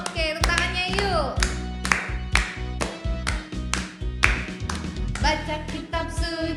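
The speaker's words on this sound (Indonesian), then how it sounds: "Oke, tepuk tangannya yuk." Children clap along to a sung Indonesian Sunday-school song at a care center, steady rhythmic claps under a loud recorded melody with singing voices throughout.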